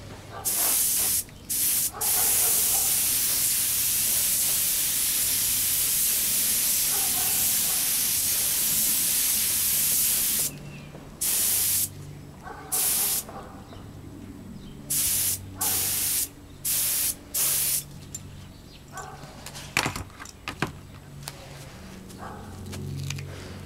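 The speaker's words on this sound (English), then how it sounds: "First coat of clear going on now." Clear coat sprayed from a spray gun onto a Honda NS 250 motorcycle part during a restoration, steady loud hissing for about ten seconds, then shorter bursts separated by pauses.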